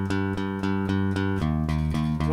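Bass guitar picked with alternating up and down strokes, a steady run of evenly spaced plucked notes holding a low sustained tone, shifting to a new pitch midway, loud and close with no talking.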